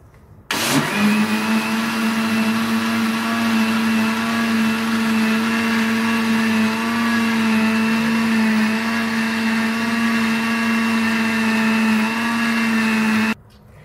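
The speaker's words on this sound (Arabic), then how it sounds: "وهلأ ما علينا الا نخلط كل هالمكونات مع بعضها بالخلاط" An electric blender whirs loud and steady for about thirteen seconds, mixing the ingredients for a caramel cream pudding, starting abruptly and cutting off cleanly with no talking.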